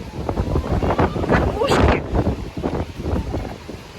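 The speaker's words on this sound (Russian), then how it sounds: "ветер просто сдувает" Strong storm wind blows outdoors by a chicken coop, buffeting the microphone in rough, gusty bursts with one louder gust partway through. Someone talks over the wind.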